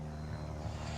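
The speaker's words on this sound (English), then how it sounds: "You can hear the airplane in the background." A propeller airplane flies overhead near an airport at a farm park harvest show. Its engine drones as a steady, loud, low hum with no break, and no one speaks.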